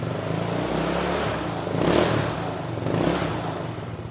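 A used motorcycle with a drilled-out exhaust idles roughly, then revs up twice in short bursts, loud and close, each swell of throttle dropping back to a rumbling idle.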